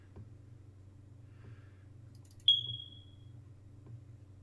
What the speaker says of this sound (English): Sparky, replace your fire alarm battery.